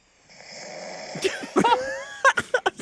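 A voice imitates snoring with a rising, wheezy drone followed by a run of short, rhythmic snorts and gasps, close and fairly loud.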